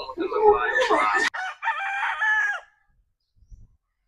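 A gamefowl rooster gives one loud, close crow with a rising then held call, broken by a brief click midway, followed by silence and a faint soft sound near the end.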